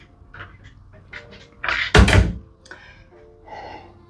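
A hotel room fridge door swings shut with a single solid thunk, preceded by a few faint rattles and clicks and followed by soft handling noise.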